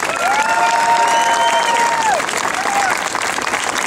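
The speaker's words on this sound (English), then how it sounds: "Let's have a round of applause for the Gold Star mothers." Loud, sustained applause fills the room, with crowd cheering and a voice calling out over the clapping.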